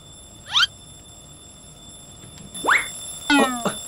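An alarm clock rings in the One Punch Man: World video game, with three sharp rising electronic chirps, the last one warbling, loud and close against a quiet backdrop.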